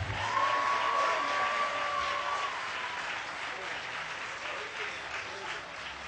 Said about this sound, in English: So give Sheboygan a round of applause,